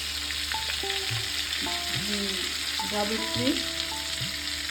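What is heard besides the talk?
spices frying in butter and paneer-frying oil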